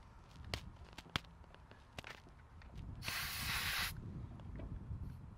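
A tire pressure gauge pressed onto a tire valve lets out a short, loud burst of hissing air lasting about a second, after quieter close clicks and taps from handling.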